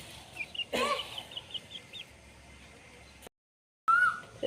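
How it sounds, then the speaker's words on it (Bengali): Colombian Light Brahma chicks chirp and cluck close by in a village yard, giving short repeated peeping calls in uneven bursts. The sound drops out briefly, then the calls return. "এই বাচ্চাগুলো হইতেছে যে কলম্বিয়ান লাইট ব্রাহ্মার বাচ্চা এগুলা"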